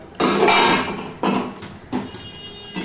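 A metal lid is lifted off a cooking pot of simmering potato and pointed gourd curry on a gas stove, giving several sharp clanks and scrapes, close and fairly loud, with no talking.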